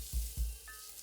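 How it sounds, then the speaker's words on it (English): Spices such as cayenne and oregano being gently stirred into a frying pan: two soft scraping strokes over a faint sizzle, close and quiet. "Gently stir the spices in."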